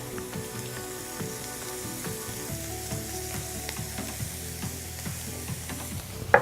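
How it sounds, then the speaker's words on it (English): Mushrooms sauteing in butter in a pan give a soft, steady sizzle, close and quiet, overlaid by rhythmic clicking, mechanical ticks, with no talking. "let's just saute these mushrooms off."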